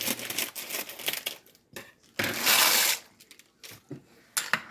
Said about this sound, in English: We need to add our noodle pack. And I'm going to go ahead and cut that open too.